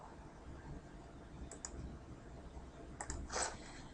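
A computer mouse clicked a few times, faint and crisp: a double click, then another pair of quick clicks in a quiet room.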